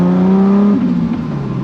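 A Toyota Supra pulls away smoothly from a stop, its engine note rising steadily with clear harmonics, then settling into a broader whir as it gains speed, loud and close with no talking.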